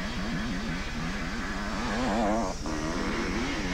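Motocross motorcycles race at the 1987 Sun Valley Grand Prix, engines revving loud and close with rising and falling pitch as riders pass, a continuous buzzing roar throughout.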